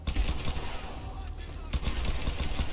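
Rapid gunfire from a gun in the video game Tomb Raider, loud bursts of shots repeating through the clip over a dense, busy game soundscape.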